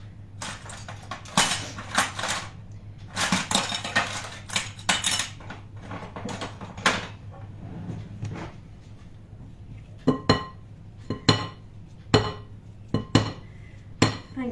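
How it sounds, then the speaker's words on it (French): A spatula spreads topping over an upside-down caramelized pear cake, with irregular clinks and scrapes against the dish, several quick taps early on, then spaced sharp knocks later, close and clear without speech. "je prends une spatule pour pouvoir couvrir mon gâteau"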